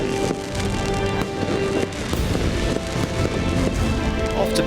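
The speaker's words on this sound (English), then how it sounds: "the fireworks were certainly flying over the centre of the city after the final stage" Fireworks bursting over a city centre at night after the final stage of the Barum Czech Rally in Zlín, a dense, continuous crackle and pop of many rapid explosions, loud and steady throughout.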